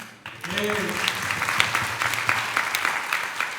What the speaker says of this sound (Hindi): सब लोग इनके लिए तालियां